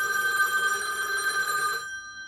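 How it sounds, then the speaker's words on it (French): An old-fashioned telephone bell rings with a sustained metallic trill from a 1996 film, loud and alone before cutting off abruptly near the end. "Téléphone, le téléphone va sonner."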